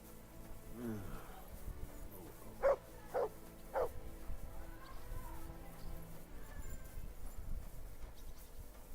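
In the video game Kingdom Come: Deliverance II, a dog gives three quick barks at mid distance over a low ambient bed, with hoof clip-clop and murmured voices around it.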